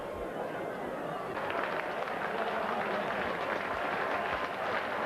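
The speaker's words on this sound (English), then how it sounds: "A lot of applause for the number 10." Rugby league crowd in a Featherstone versus Wigan match applauding as a player leaves the field, a broad, steady wash of distant clapping and chatter from the stands, continuous throughout.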